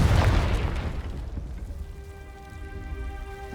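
A heavy blast from the Confringo blasting curse in Hogwarts Legacy, a loud boom at the start that decays into a rumbling, crackling tail under a faint music tone.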